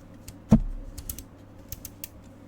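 The switch of a Casio PT-30 keyboard, with a ball-bearing click mechanism, is clicked by hand: one firmer click followed by several lighter, sharp ticks, close and quiet against a soft background hum.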